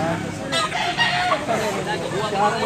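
A blue-legged gamecock at a rooster market in Tabunok, Cebu crows close and loud, its drawn-out call ringing over crowd chatter.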